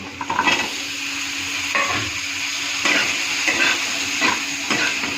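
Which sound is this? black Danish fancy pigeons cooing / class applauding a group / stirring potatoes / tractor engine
stirring potatoes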